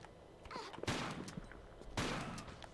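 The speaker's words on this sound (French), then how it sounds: "Tu t'attendais pas à ce que Lara se retourne et te tire dessus." Lara Croft firing pistols in the video game Tomb Raider IV, two loud bursts of rapid gunfire about a second apart over a busy game soundscape.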